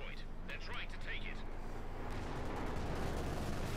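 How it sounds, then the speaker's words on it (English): Anti-tank grenades and gunfire crack and rumble in the Company of Heroes 2 real-time strategy game, a dense, continuous battle roar with scattered blasts, heard under a voice commentating. "Several anti-tank grenades going off"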